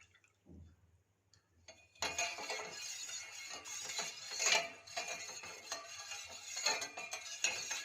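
Wet scraping and clinking of a spoon stirring thick urad dal (black gram) porridge in a metal pot, continuous and close, with occasional louder knocks against the side.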